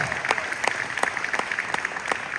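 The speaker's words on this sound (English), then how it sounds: "Give Chairman a huge round of applause" A crowd applauds at a city budget town hall in West Philadelphia, a dense steady wash of clapping with a few louder individual claps standing out, sustained throughout at moderate level.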